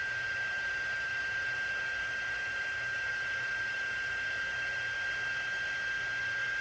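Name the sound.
heat tool heating embossing powder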